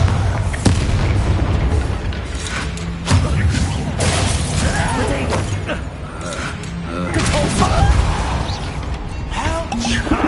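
Bombarda explosion spell in Hogwarts Legacy, heavy booming blasts and crashing debris within dense, loud combat sound effects, with game character voices shouting through it.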